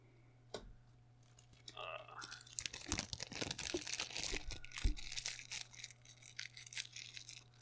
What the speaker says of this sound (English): That's just me crumpling the paper by the thing.